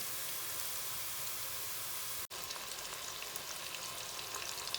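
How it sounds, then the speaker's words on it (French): Chicken curry ingredients fry steadily in a pan, a close, even sizzle with bright hiss that runs throughout, broken only by one brief dropout midway. "on va les frire encore un peu pour que ça devienne encore plus doré"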